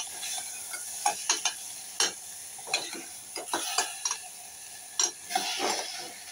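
Pieces of sole fish are stir-fried gently in a pan, with a soft sizzle and scattered clinks and scrapes of a utensil against the metal, close and moderately quiet, with no talking.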